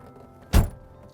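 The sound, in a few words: Bugatti EB110 SS car door shutting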